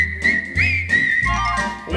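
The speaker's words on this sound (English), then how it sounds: "You see whistling people." Whistled melody from several people in a song, a bright sustained tune carried over orchestral music with no talking.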